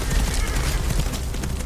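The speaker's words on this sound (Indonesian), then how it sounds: "Ketika mereka melihatnya, langsung dihujani dengan tembakan." A dense, continuous volley of gunfire crackles loudly and steadily, with a rough, noisy texture throughout.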